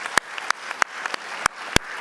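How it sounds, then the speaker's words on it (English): A small round of applause for seventh graders at a school academic bowl: a handful of sharp, scattered claps at an uneven pace, fairly close and moderately loud, with no speech. "let's give the 7th graders a round of applause"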